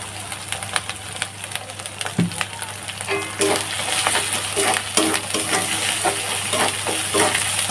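Spices and ground chilli paste sizzle and fry in plenty of hot oil for a home-style chicken curry, a loud, steady crackle near the pan with a stirring scrape partway through and no talk.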